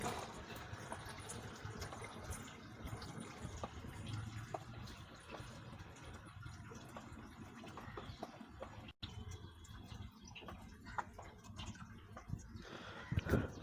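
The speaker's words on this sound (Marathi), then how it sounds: "अशा प्रकारे संपूर्ण पाणी रेणुका भरून घेत आहे." Tap water filling containers through a pipe wrapped with a cloth filter on a rainy-season morning at a family home. A steady, faint splashing and trickling runs throughout, with occasional knocks and clatters of the vessels.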